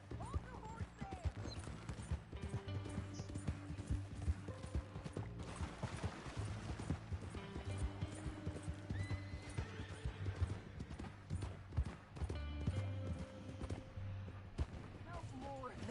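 Horse hooves clip-clop steadily through Red Dead Redemption 2 game audio, joined by a whinny and a mix of voices talking over the continuous trotting.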